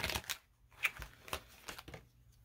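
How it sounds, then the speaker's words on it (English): A deck of tarot cards being shuffled in short, close papery bursts, roughly half a dozen quick riffles spread through a quiet room with gaps of silence between them. "Two more shuffles."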